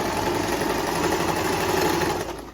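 A sewing machine runs steadily while sewing an elastic skirt waistband, a loud, close, even mechanical whir with rapid stitching pulses that winds down at the end.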